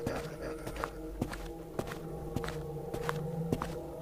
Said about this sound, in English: Slight footsteps.